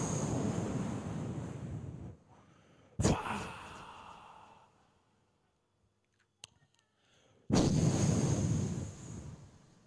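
Sea waves wash in loud bursts of rushing surf, separated by a quiet stretch with a brief sharp crash in the middle.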